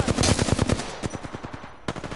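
Automatic gunfire in Apex Legends, a close, loud burst of rapid shots, a short pause, then another quick burst.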